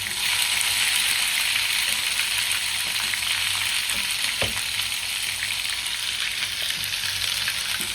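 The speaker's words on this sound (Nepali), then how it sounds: "तेल तात्यो नि लगभग। अब हामी हाल्दैछौँ बाङमा" Tomatoes fry in hot oil in a wok with a loud, steady broadband sizzle that holds unbroken for the whole stretch, broken only by a single brief clunk partway through; no one speaks.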